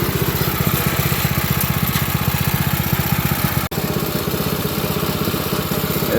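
A go-kart engine with a 10-tooth clutch runs steadily and close by, its rapid even pulsing joined by the rattle of a loose brake rod, with one brief dropout near the end.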